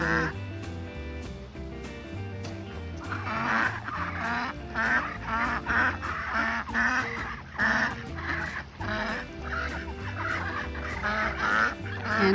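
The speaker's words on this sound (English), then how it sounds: "And also showing you the duck that has a little mohawk." A group of ducks, one with a crested mohawk, keeps up repeated loud nasal quacking and honking calls in overlapping bursts over a steady background murmur.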